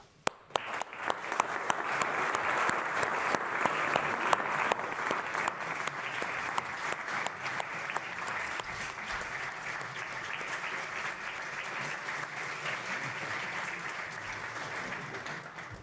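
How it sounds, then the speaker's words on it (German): A concert audience claps in sustained applause that swells early on and then holds steady for a long stretch. "geben Sie einen warmen Applaus"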